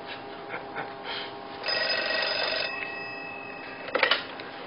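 A telephone rings nearby with a sustained electronic bell tone that holds for about a second and then stops, with fainter shorter rings before it and a short clatter at the end, and no talk.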